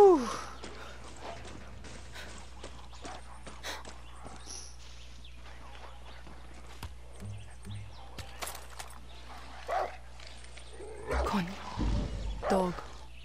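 A dog in the video game Far Cry 6 gives a few short yips and whimpers amid scattered footsteps and game ambience, fairly faint, with someone talking over parts of it.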